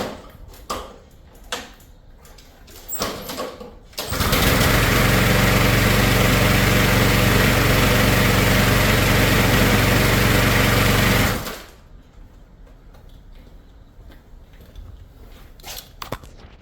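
A Revo6 string trimmer fitted with the 2.0 blade setup starts up and runs at a loud, steady idle for about seven seconds, with quieter handling noises before and after.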